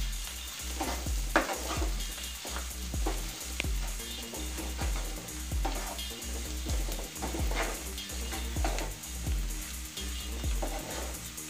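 Spoon stirring a besan and garam masala stuffing for capsicum in a pan, with repeated scraping strokes over a soft sizzle, close and steady, no talking.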